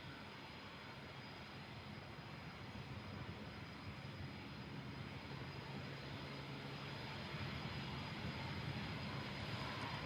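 Embraer jet taxiing at the Farnborough airshow, a steady, distant engine roar and whine that swells slightly toward the end.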